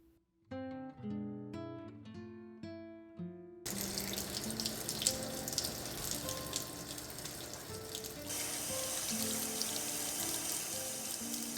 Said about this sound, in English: I like to wash them with soapy water to remove any food residue from the outside of the jar